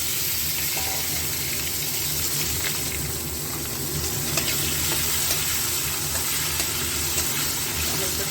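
Tomato dropped into sizzling spices in oil for katla fish curry, producing a loud, continuous frying hiss with light stirring throughout and no voices.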